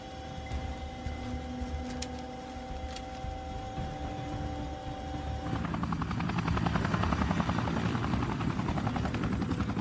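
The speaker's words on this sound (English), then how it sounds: "the Chinook returns to RAF Aldergrove" A Chinook helicopter in flight gives a steady, loud rotor drone with a fast, thudding beat that grows stronger partway through.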